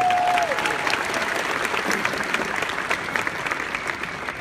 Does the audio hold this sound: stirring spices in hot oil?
no